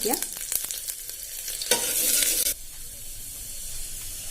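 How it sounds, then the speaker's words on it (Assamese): Onions hiss and sizzle in hot oil with five-spice seeds, stirred with a few quick spatula clicks, then a louder spitting burst that stops abruptly, leaving a quieter steady frying hiss. "পিঁয়াজখিনি ৰঙচুৱাকৈ ভাজি ল'ম"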